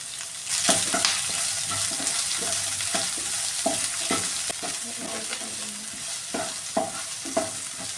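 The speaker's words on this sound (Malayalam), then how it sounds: "ഇനി ഈ ചെറിയുള്ളിയും സവാളയും കൂടെ ഞാൻ അതും കൂടി ഇട്ട് കൊടുക്കുവാണ്." Chopped shallots and onion frying in a pan while cooking a raw banana stir fry, a steady close sizzle with intermittent stirring scrapes and clicks.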